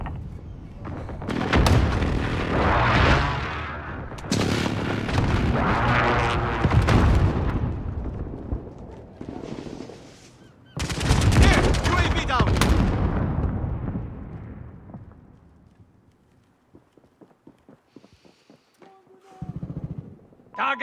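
Call of Duty Search and Destroy match with a precision airstrike: loud, dense bursts of explosions and gunfire roll in two long waves, then thin out into scattered distant shots and faint game tones.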